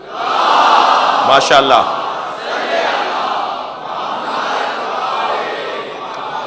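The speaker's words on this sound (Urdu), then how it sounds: "صلوات پڑھ لیں ذرا محمد و آل محمد" A large crowd at a Shia majlis loudly recites salawat in unison, a dense wash of massed voices swelling and falling across several seconds. A single voice briefly calls out over the crowd near the start.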